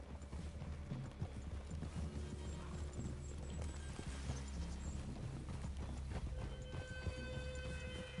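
Horses in the video game Red Dead Redemption 2 clip-clop at a steady walking rhythm, the hoofbeats fairly quiet and continuous over a low ambient rumble, with no talk.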